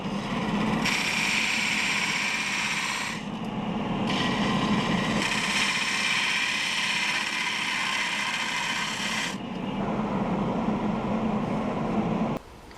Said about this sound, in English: Now I'll use a spindle gouge to clean up the sides